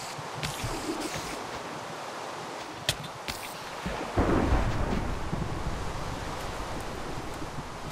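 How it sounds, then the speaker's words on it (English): A lightning strike in Minecraft hitting an island, a sharp crack followed by a deep rolling thunder rumble over steady wind and rain-like noise, loud and close. "Lightning hit my island."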